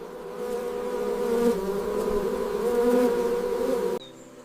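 A wild honeybee colony on an exposed nest hums with a steady, dense buzzing of many bees, close and loud, holding at an even level before cutting off abruptly near the end.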